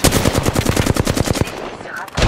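A loud rapid burst of automatic gunfire sprays in Apex Legends, a fast even string of shots for about one and a half seconds, then tails off into quieter game sounds.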